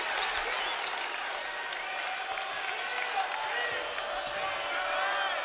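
A college basketball crowd at a Bradley versus Valpo game cheers and applauds after a basket, a broad sustained roar of clapping in an arena.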